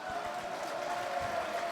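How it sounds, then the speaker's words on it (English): Steady applause from a group, a continuous patter of clapping that fills the short moment without any voices on top. "Let's give her a round of applause."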